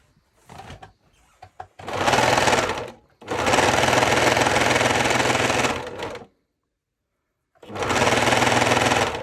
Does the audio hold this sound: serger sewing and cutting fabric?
yes